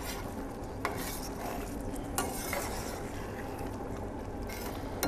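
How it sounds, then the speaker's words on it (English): Tomato and wine sauce bubbling at a steady boil in a pan, a continuous close sizzle with a few sharp clinks of a utensil against the pan. "We want to let it boil for a bit. Let all the alcohol from the wine slip away."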